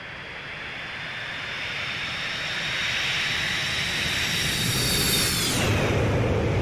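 Boeing 727-200 jet engines in a flight simulator game, a loud sustained whine and roar with high tonal lines that build and then shift pitch near the end, with no talking.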